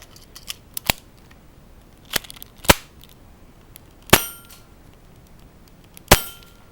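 Gunshots ring off steel shooting targets at an outdoor range: five or six sharp cracks spaced irregularly, some followed by a brief metallic ring, with faint smaller pops between.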